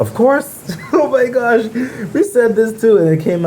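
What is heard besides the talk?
No distinct noise like a dog, phone or traffic.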